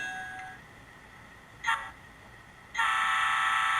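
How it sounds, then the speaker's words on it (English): Electronic locomotive bell from a Digitrax SDXH166D sound decoder in a model train: a brief bright ring sounds once, then after a pause a steady, ringing metallic tone starts and holds, close and clear. "We'll try our bell."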